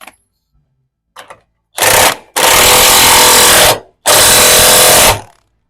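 Two loud, sustained whirring bursts from a power tool tightening a bolt during a Toyota 200 Series Land Cruiser leveling kit install, preceded by a couple of brief clicks, each burst lasting one to two seconds with a short pause between.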